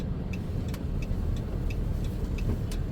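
A car drives through town in Chrzanów, Poland, its engine and tyre noise a steady close rumble throughout, with faint ticking clicks above.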